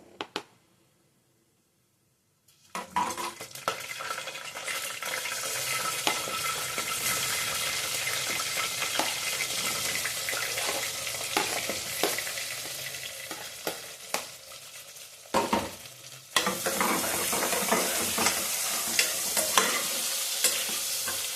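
Sliced onions frying in a pan for pulao, a steady loud sizzle with stirring scrapes that begins after a brief silence, dips for a moment midway, then resumes strongly.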